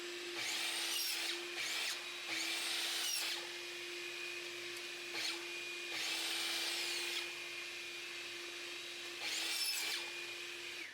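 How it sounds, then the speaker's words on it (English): A chop saw cutting stock in a cluttered home workshop: several loud, whining bursts of a few seconds each spin up and wind down over a constant motor hum. "I'm going to show you me cutting it. You can cut it with anything you have. I happen to have a chop saw."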